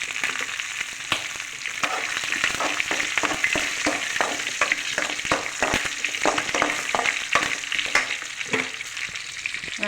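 Mustard seeds, garlic and green chili tempering in hot oil for a cassava stir-fry, a steady loud sizzle with constant crackling pops and spatters throughout, no voices.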